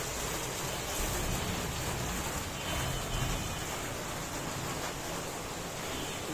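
Rain falling steadily, a dense even hiss of drops with no pauses and no voices.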